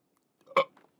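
A man lets out a single short burp, close and fairly loud, with a faint trailing grunt just after, in an otherwise quiet room.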